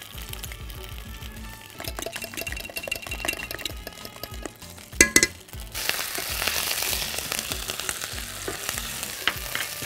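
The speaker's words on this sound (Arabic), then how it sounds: "علشان الطشه من التوم هنا كده في الملوخيه" Garlic frying in ghee for a molokhia tasha, a steady close sizzle with bursts of crackle and spatter, brief clinks and stirring, growing louder and brighter in the second half.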